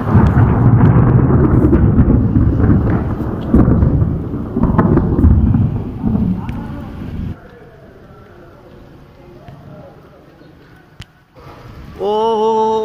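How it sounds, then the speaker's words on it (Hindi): A thunderstorm with heavy rain in Pakistan during Ramadan, with a dense, loud roar of downpour and thunder that drops to a quieter patter partway through. People talk over it. "बारिश आना शुरू हो गई यार, बड़ी तेज वाली"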